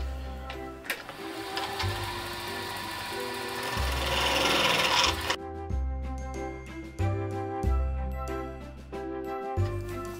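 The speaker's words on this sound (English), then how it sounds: "I'm going to try a little bit more with the skew." Skew chisel cutting a pine Christmas ornament on a spinning wood lathe, a close rattling, chattering scrape under the steady motor drone, with the cutting noise dropping away partway and sharp intermittent knocks continuing.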